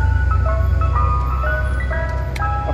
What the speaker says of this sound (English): So the ice cream truck showing up.